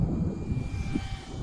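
A cheap RC plane's small motor buzzes steadily overhead as it flies into the wind, with gusty wind rumble over the microphone throughout.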